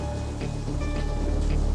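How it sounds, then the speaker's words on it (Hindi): Rain falls steadily in a scene from a Hindi-dubbed South Indian movie, a soft, continuous hiss with faint patter and no voices. "ऐसी ही बारिश हो रही थी।"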